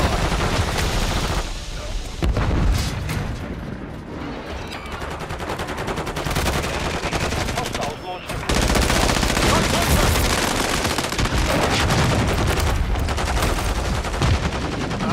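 Dense, continuous gunfire from the video game Call of Duty, with rapid automatic bursts and explosions nearly filling the whole stretch, loud and close, briefly easing twice before resuming; a voice speaks faintly beneath.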